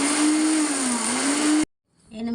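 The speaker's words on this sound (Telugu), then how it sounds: "ఆవాలు మిక్సీ" A mixer grinder whirs loudly and steadily as it grinds fried mustard seeds for amla pickle, a continuous motor drone that cuts off abruptly, leaves a brief silence, then starts up again.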